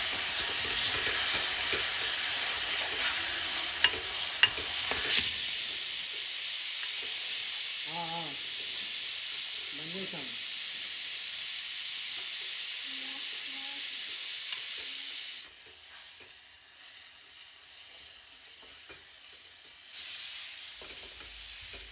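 Tomato chutney tempering sizzles steadily in hot oil in a home kitchen, a continuous bright hiss with a few soft clinks of stirring, briefly quieter near the end before resuming.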